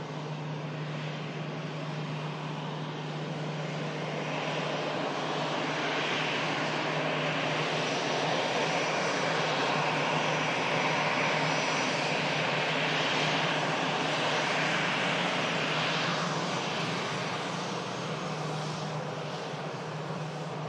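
An EasyJet airliner from Porto rolls off the runway at Manchester Airport, a steady, fairly loud jet whine and rumble with a constant low hum, sustained evenly throughout.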